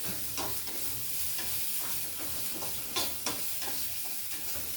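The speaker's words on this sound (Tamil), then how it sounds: "பாவக்காய் குழம்பு வைக்கிறதுக்கு வந்து அம்மா வந்து வறுத்துட்ருக்காங்க" Spices being dry-roasted in a pan for bitter gourd curry, a steady close frying hiss with scattered stirring scrapes and a couple of louder knocks, no talk.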